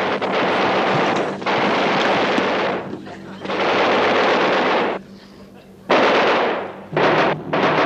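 Gunfire in a battle scene from the McHale's Navy television series, several loud sustained bursts of shooting separated by brief pauses, with a voice heard among them.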